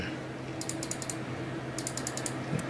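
Corsair K70 LUX RGB mechanical keyboard with blue switches being typed on in two short bursts of sharp, clicky keystrokes, heard close and clear over a low background hum.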